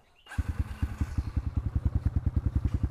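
Motorcycle with its stock standard exhaust idling nearby, a steady rapid run of low, even exhaust pulses after a brief start, loud and alone with no talk.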